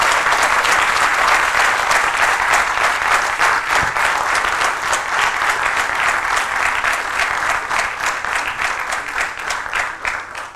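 Loud, sustained ovation from a pediatric urology conference audience after a keynote lecture by Dr. Snodgrass; dense, continuous clapping with crisp individual claps, easing slightly near the end.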